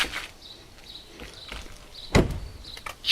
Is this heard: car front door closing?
yes